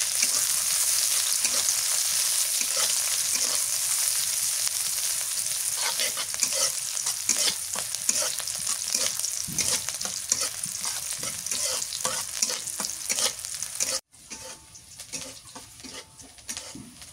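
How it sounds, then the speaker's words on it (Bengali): Onions with cumin and garlic paste fry in a pan as part of a river baim fish curry, giving a constant close sizzle. A spoon scrapes and stirs through it over and over, and the frying grows quieter near the end. "পেঁয়াজ ভাজা হয়ে গেছে"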